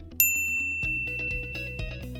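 Bell-ring notification effect: one bright, piercing ding rings out and lingers, then rhythmic background music with a steady beat takes over, close and clear.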